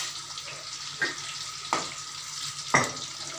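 Fish pieces fry in oil, a low steady sizzle with three sharper bursts of crackle and spatter spaced about a second apart, fairly quiet and close by.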